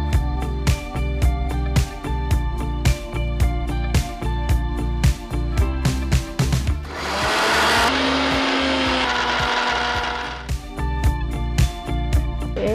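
A mixer grinder jar blends a ginger masala for cabbage dosa, giving a loud, steady whirring burst of about three seconds in the middle, set between rhythmic percussive background music.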